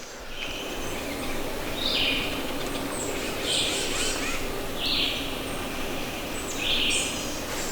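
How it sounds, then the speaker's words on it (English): About four wild Osceola turkeys gobble in bursts at a distance, repeated every second or so over a steady outdoor background hiss. "It seems like there's like 4 turkeys gobbling right now"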